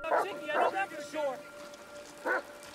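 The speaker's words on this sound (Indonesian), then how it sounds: "Keributan itu kemudian dihentikan oleh suara gonggongan anjing." Dog barking: four short yipping barks, three in quick succession and one after a pause, moderately close over a quiet background with a faint steady tone.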